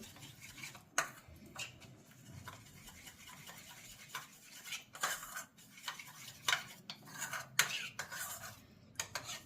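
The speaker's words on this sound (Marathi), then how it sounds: "कस्टर्ड पावडर कालवण्यासाठी थोडंसं पाणी" Quiet, scratchy stirring with a spoon as custard powder is mixed into a little water, irregular scrapes and light clinks against a bowl, close up with no voices.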